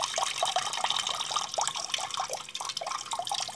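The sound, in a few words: water draining from Eca Confeo Plus combi boiler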